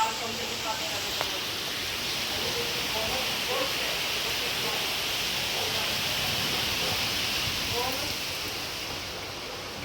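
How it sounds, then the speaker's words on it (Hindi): Heavy rain with wind pours down outside a house in a steady, dense hiss that runs unbroken through the whole stretch, with a faint voice now and then beneath it. "बहुत तेज बारिश हो रही है बाहर"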